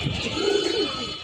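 Kept pigeons coo in a low, rolling murmur over a constant hiss of background noise, one coo standing out clearly near the middle of the stretch.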